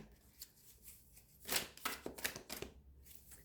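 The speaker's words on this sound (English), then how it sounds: "This deck is so big, it's hard to shuffle." A large deck of oracle cards is shuffled close by, giving quiet papery riffles and flutters in short uneven bursts, loudest near the middle.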